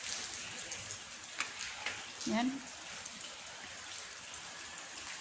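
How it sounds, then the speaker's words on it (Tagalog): Rain keeps falling outside after several days of showers, a steady soft hiss of drops going on in the background while a person speaks briefly. "Muulan pa rin sa labas."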